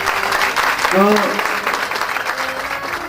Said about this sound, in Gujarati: તાળીઓના ગગડાટથી આપણે એમને સૌ બતાવી દઈશું